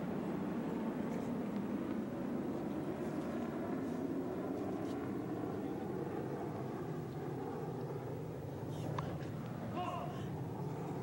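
An airplane passes over an outdoor tennis match at the 1988 US Open, a continuous low, droning rumble filling the whole stretch, with faint voices at times.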